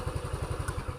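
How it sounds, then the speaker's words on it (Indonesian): A motorcycle engine idles close by with a rapid, even train of low thumping pulses. "Nah, di sini motor sudah nyala."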